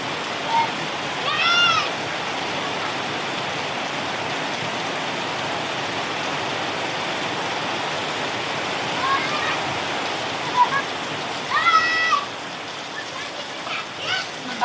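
Heavy rain pours steadily in a dense, even hiss, with a few brief voices calling out over it near the start and toward the end.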